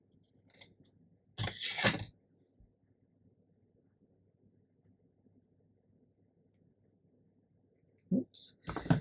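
Scissors trim paper for a junk journal in two brief, crisp bursts of close snipping, separated by several seconds of quiet room tone.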